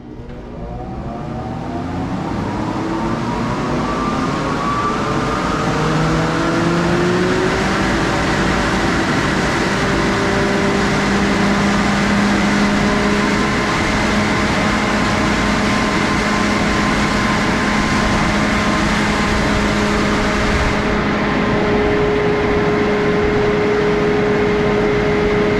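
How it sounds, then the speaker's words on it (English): A farm grain dryer spins up for a test run, its fan and motor rising into a loud, steady drone with rising tones that settle into a constant hum, sustained for a long stretch with no talk. "Firing up the dryer. Test run."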